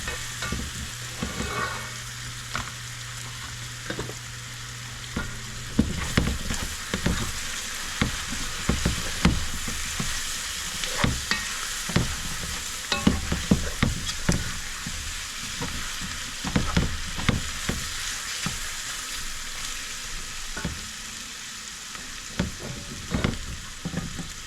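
Pigtails and salted beef frying in a pot for Guyanese metemgee, a steady close sizzle with frequent stirring scrapes and clinks, no talk over it.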